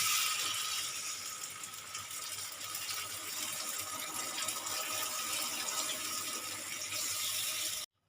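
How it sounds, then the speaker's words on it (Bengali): Water pouring steadily into a pot of chana dal curry, a continuous hissing splash that runs for about eight seconds and then cuts off abruptly. "পরিমাণ মতন জল দিয়েছি ঝোলটা ফুটে গেলে তারপরে আমি পটলগুলো দিয়ে দেবো"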